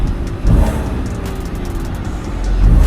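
A car with an exhaust leak gives off a loud, steady low droning rumble from its muffler, with a buzzing vibration that swells near the start and again toward the end.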